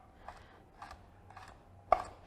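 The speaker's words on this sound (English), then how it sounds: "we are going to roughly chop up our garlic again" Garlic being roughly chopped for a fish dish, heard as a few soft, evenly spaced knife taps and a sharper final chop, faint against quiet kitchen background with no talking.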